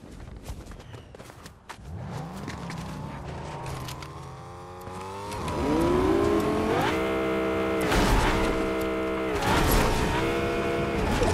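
A car engine in the Fortnite video game revs and climbs in pitch, with rising harmonic whines over steady loud engine noise; no speech is heard.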